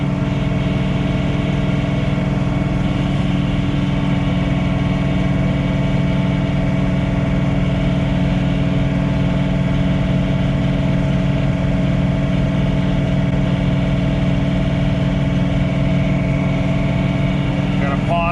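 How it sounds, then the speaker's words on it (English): A John Deere 3046R cab tractor runs a snowblower at night on a driveway, giving a loud, steady engine drone with a constant mechanical whine and no break. "I'm going to float the snowblower up the driveway."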